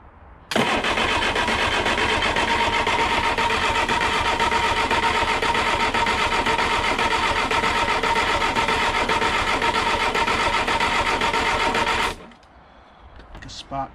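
A 1969 Reliant Regal engine cranks over continuously on the starter for about eleven seconds, a loud, steady, rapid chugging whir close by that stops abruptly, leaving a quieter background with some faint voices.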